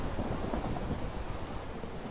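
Rain and thunder in the Magic Farm 2 video game: a steady, dense downpour with a low rumble running continuously and evenly throughout, with no voices.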